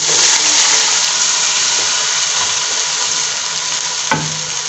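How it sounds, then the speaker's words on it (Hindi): Kadhi is poured into a pot of frying onions, giving a loud, continuous sizzle and hiss that fades slightly, with a brief clink near the end and no talk. "अब हम इसके अंदर डाल देंगे जी अपनी कड़ी"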